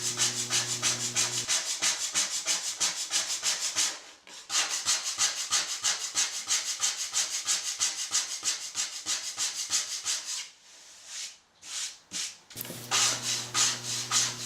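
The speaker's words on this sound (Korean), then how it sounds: "미세하게 두께를 조절할 수 있는 스크레이퍼라는 도구를 이용해서 일정 두께까지 조절해주는 작업을 반복해가며" A hand scraper works over a wooden ukulele top plate, thinning it in rapid, even rasping strokes that repeat steadily, pausing briefly twice, with a low hum under the first and last seconds and no talking.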